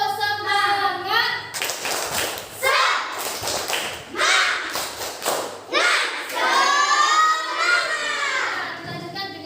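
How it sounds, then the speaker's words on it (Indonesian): Children in a classroom clap out the 'tepuk semangat' rhythm, bursts of claps and thumps alternating with a teacher and the children chanting along between the claps. "coba kita tepuk semangat dulu"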